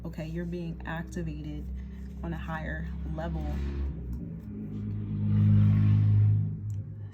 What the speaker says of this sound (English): Sorry about that car, guys, if you can hear that in the background.